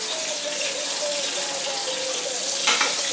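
Pork chops fry in a pan with a loud, dense, steady sizzle, close up, and a brief clink of a utensil near the end.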